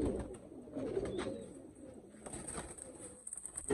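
Soft, low cooing from a blue-tailed pigeon murmurs repeatedly amid faint background rustling, fairly quiet and close.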